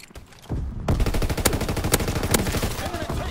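Heavy gunfire from a World War II shooter game bursts in at once and keeps going as a loud, dense rattle of rapid shots, with a few sharper cracks standing out.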